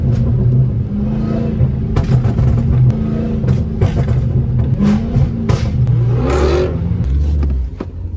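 Fast Dodge Hellcats and Scat Packs rumble and rev close by while driving a dirt road, engine noise steady with bursts of throttle and gravel clatter, no talking.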